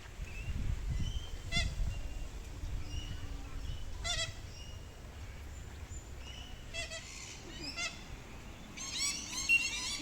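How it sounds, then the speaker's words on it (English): Black swans in a Melbourne botanic garden lake give several separate honking, bugling calls, the last a busier burst of overlapping notes, over a low outdoor rumble. "black swans there as well."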